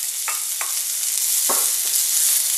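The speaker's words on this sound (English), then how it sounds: "We're gonna have our pan on medium-high heat, and we're gonna add in our onions." Onions fry in coconut oil in a pan on medium-high heat. A steady, bright sizzle runs throughout, broken by a few short stirring scrapes, and no one speaks.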